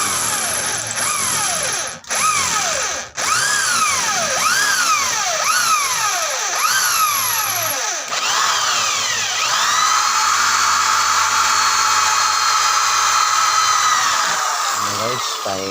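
Drill working on a stuck spin dryer part, loud revving whine that repeatedly rises and falls in pitch, then settles into a sustained high drone, with brief cutoffs early on.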